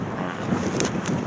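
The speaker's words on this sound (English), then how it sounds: "I'm losing it all because of the wind today" Wind buffeting a microphone outdoors in a forest, a steady low roaring rumble that fills the whole moment without a break, loud and close.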